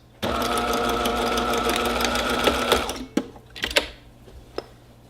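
Home sewing machine stitching a straight seam across fabric for a hot pad runs in a steady, close whirring burst for about three seconds, then stops, followed by a few faint clicks and handling sounds.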